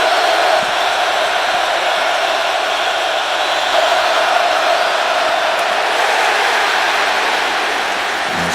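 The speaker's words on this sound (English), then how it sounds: "Listen to this crowd roar." A football stadium crowd at a Miami vs. Nebraska game roars in a dense, sustained wash of noise that holds loud and unbroken throughout.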